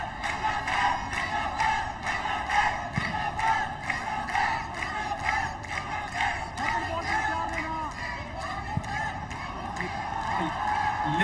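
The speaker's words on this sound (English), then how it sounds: "Listen to the cheer." Football crowd in a stadium at a Pakistan vs Bangladesh SAFF U20 Championship match, a dense sustained roar of chanting and cheering voices rising and falling in waves, distant and continuous without a break.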